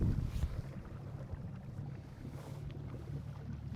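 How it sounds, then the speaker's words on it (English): A Garmin Force Current trolling motor on 12 volts drives a boat across the water, giving a steady low hum under wind buffeting and water wash. The sound stays continuous and close for the whole stretch. "This motor on 12 volt is incredibly fast."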